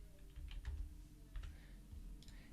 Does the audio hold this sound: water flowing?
no